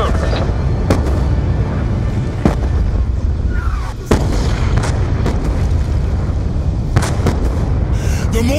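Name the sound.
mortar shelling explosions in video game Black Ops 2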